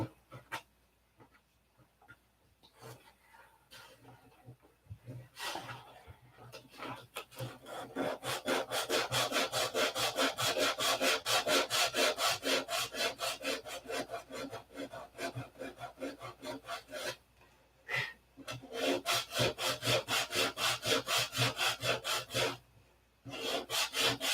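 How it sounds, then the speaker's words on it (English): Rapid back-and-forth scratchy rubbing of sandpaper on balsa wood fillets, starting hesitant then settling into a fast steady rhythm with a few brief pauses. "So if you see paper, stop sanding."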